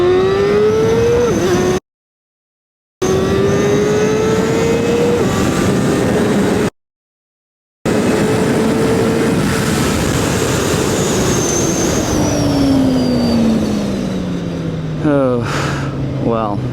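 A 2025 KOVE 450RR motorcycle accelerates hard through its gears, the engine note climbing and dropping repeatedly with short gaps between shifts, loud and close, ending with a falling pitch as it eases off.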